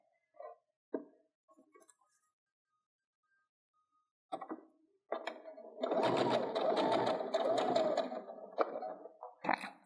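Sewing machine stitching fabric with the presser foot reinstalled, a steady close whirring run of several seconds after a few light clicks and quiet handling sounds.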